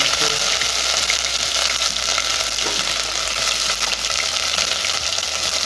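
Bay leaf and cinnamon frying in hot oil for an egg curry, a dense continuous sizzle and crackle with occasional stirring clatter, close and steady throughout.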